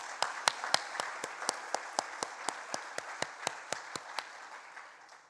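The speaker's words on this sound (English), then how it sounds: "Let's give Maddie a round of applause." At an Australia Day awards ceremony, an audience applauds for an award nominee under one prominent, evenly spaced clap, faint overall and then fading out near the end.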